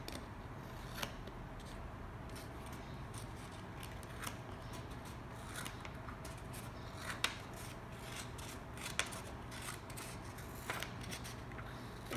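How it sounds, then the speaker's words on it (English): Scissors snip along a marked line on paper being cut for a paper helicopter, a quiet, close rasping with a few sharper clicks of the blades over faint room noise. "So now I'm gonna take my scissors and cut in the line."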